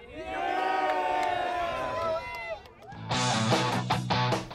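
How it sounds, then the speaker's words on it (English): Rugby players of the Zebras team shout a loud group after-match cheer, a sustained chorus of voices for about two seconds, then a brief lull before a second burst of rhythmic, punchy chanting. "Had to do a little bit of coaching there for the Zebras to give us the aftermatch cheer"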